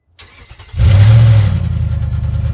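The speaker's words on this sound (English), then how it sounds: "he fumbled with the keys, starting the engine as fast as he could" A truck engine cranks briefly and catches, then roars up to a loud, steady rumble that settles into a rough idle, close and alone.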